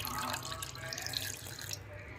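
Water pours into a mixer grinder cup holding coconut chutney ingredients, a steady close-up splashing rush that stops shortly before the end.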